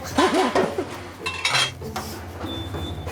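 Dishes and cutlery clink in a busy hospice kitchen as omelettes are prepared, with scattered clatter, a voice briefly heard early on, and a faint steady tone near the end.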